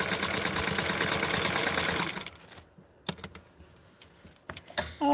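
A sewing machine stitches a shirt for a Ricky doll, running in a fast, steady mechanical chatter for about two seconds, then stopping, followed by scattered quiet clicks and handling sounds.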